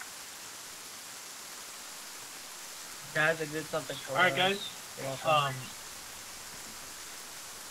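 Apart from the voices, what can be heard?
rain in the video game ArmA 3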